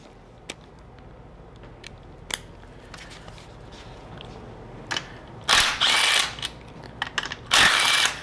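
Socket wrench working bolts on an NP231 transfer case, scattered clicks and small metallic knocks followed by two bursts of fast ratcheting, close and fairly loud, no voices.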